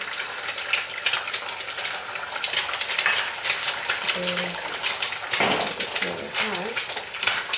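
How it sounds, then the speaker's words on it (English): An egg fries in a pan over a low flame, giving a steady soft sizzle. Utensils clink against the pan now and then, and a voice talks over the cooking. "you cook your eggs on very low flame. Cook it, and so you're just going to fry your egg."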